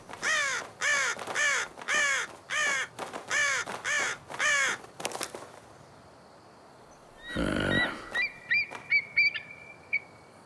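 Cartoon crows caw in a rapid series of about nine harsh calls, fairly close, followed by a short whoosh and a few scattered higher squawks.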